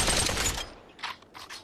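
Gunfire from a gun in the VR game Population: One, with a loud close burst of rapid shots that cuts off, then two fainter short bursts follow.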